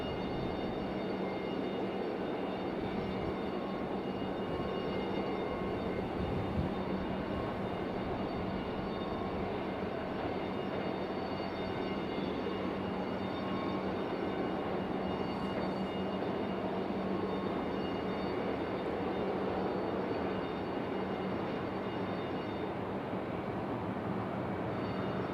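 A Breeze Airways airliner at Raleigh-Durham International Airport gives a steady, distant jet rumble that holds evenly for the whole stretch, with no voices over it.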